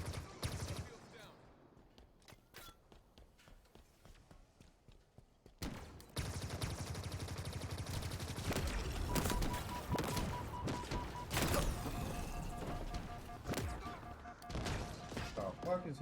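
Halo gameplay gunfire with rapid bursts and crashing impacts that grow dense and loud in the second half, after a quieter stretch with scattered shots.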